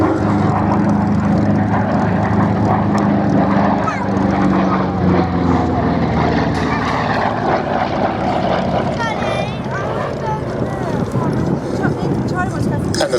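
Propeller fighter aircraft flying at the Duxford Battle of Britain air show, a throbbing piston engine drone that rises and wavers overhead beneath a commentator's steady speech over the public address.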